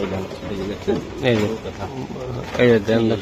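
Giribaz racing pigeons cooing in soft, repeated throaty phrases close by, mixed with someone talking.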